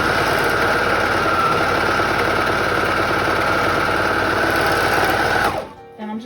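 A sewing machine stitches fabric for a Christmas dress in a steady, fast, loud whir with rhythmic needle chatter, running continuously before cutting off near the end.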